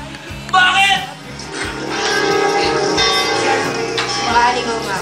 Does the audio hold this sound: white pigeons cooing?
no